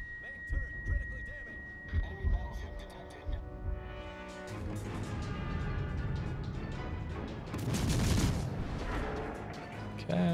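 Heavy naval cannon fire in the ship battle game Yodo, with booming shots and deep rumbling blasts. They come in bursts over musical tones and game sounds, rising into a louder barrage near the end.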